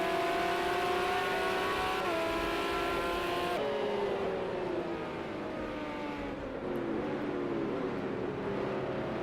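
Race car engines in the Project Cars 2 video game at a GT race in Portugal, a continuous loud high whine from an Aston Martin and others, pitch sweeping down and up through gear changes.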